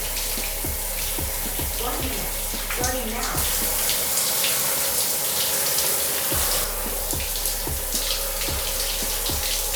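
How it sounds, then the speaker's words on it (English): Cold shower water running steadily throughout as a loud continuous broadband spray, with a person talking briefly over it. "That's all we're gonna do is 1 minute of the cold shower."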